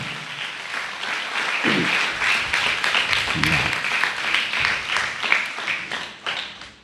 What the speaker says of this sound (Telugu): గట్టిగా చప్పట్లు కూడా దేవుని స్తుతిద్దాం.